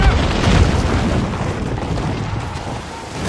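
A ship's cannon broadside in Assassin's Creed Rogue thunders as a loud, sustained rumbling boom that rolls on and slowly fades, with no voices over it.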